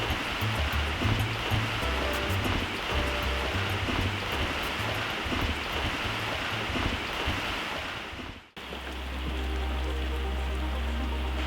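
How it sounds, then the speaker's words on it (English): Heavy rain hisses steadily on surfaces, a dense close wash of drops that cuts out briefly before resuming. "Still raining."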